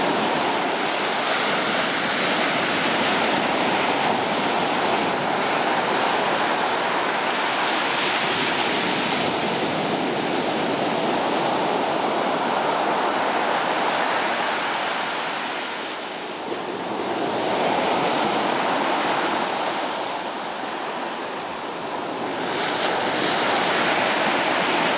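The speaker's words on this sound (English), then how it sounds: "The waves crashing in." Ocean surf rolling and crashing on Queensland Beach in Nova Scotia, a continuous roar of breaking waves with slow swells, mixed with wind buffeting the microphone and no voices.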